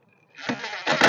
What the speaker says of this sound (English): I was able to orient my drill this way and get that pilot hole going.